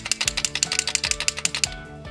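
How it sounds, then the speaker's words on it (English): Metal agitation ball rattling inside a shaken Sakura Pen-Touch paint marker barrel, a rapid, even run of about twenty sharp close clicks that stop near the end, with no voices. "The paint is sufficiently mixed when you hear the clicking sound of the metal agitation ball inside the barrel."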